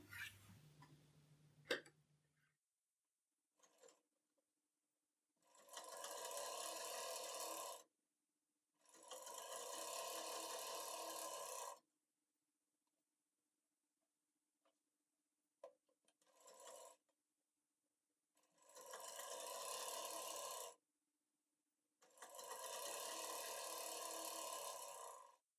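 A sewing machine stitching a kurti sleeve runs in four separate bursts of steady whirring, each lasting a few seconds, with quiet pauses and light handling noises in between; close and clear, with no talking.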